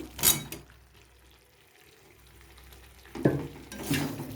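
Cauliflower tipped into a pan of fried spice masala for an egg and cauliflower curry, giving a sharp sizzle and clatter at the start, a quieter frying hiss, then renewed bursts of stirring and sizzling near the end.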